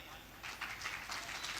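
Applause from an audience at a spiritual meditation camp gathering, a short burst of clapping that swells after a moment and carries on steadily, fairly faint and diffuse as from across a hall.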